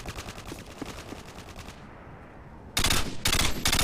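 Automatic gunfire in Modern Warfare 2: rapid rattling bursts of a machine gun, a quieter stretch of distant fire, then loud close repeated volleys.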